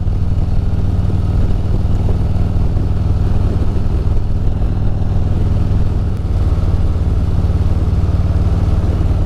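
A Harley motorcycle rides along a mountain road, its engine giving a steady, loud, continuous rumble with no talk.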